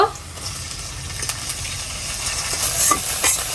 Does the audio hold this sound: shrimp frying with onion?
yes